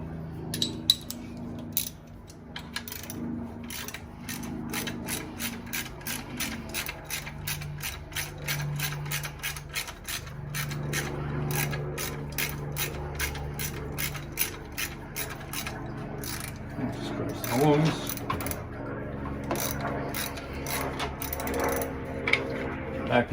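Ratchet wrench unbolting a part during a fuel pump repair, rapid repeated clicking bursts in several runs, close and moderately loud, with faint background noise between strokes.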